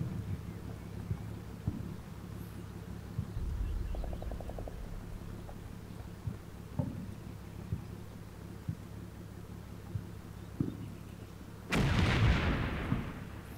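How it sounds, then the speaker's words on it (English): Tanks firing on targets in a turn-based video game, a few muffled distant thumps followed by one loud close blast with a rushing roar near the end, over a steady low hum. "So that's tanks just firing on targets that they're choosing."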